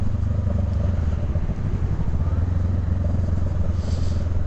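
Honda Rebel motorcycle riding on a winter road, a continuous low engine drone with rumbling wind noise throughout.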